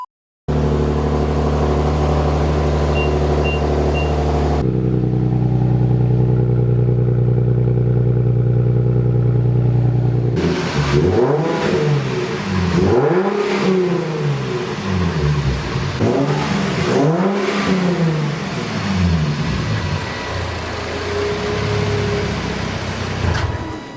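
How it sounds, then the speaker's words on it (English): Nissan 370Z Nismo fitted with an aftermarket exhaust and new intakes, revving loudly: a steady close idle drone, then a lower hold, followed by several sharp rising and falling revs that swell and drop back, no talking. "listen to it with the exhaust and the new intakes"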